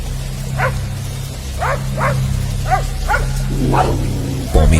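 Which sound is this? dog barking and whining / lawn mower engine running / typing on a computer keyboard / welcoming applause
dog barking and whining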